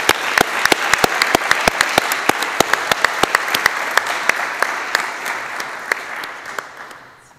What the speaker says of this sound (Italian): Qui possiamo battere le mani.